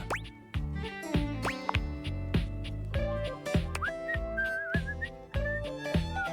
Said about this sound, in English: He's whistling when you walk up on him